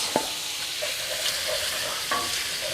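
Mushrooms and garlic sizzle steadily in a pan, with a few sharp scraping stirs of a utensil breaking through the continuous frying hiss, close up and without talk.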